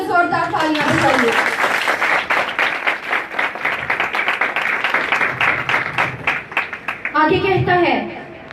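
A worship congregation bursts into loud, sustained applause, many hands clapping in a dense rattling wave between a preacher's spoken lines at the start and end.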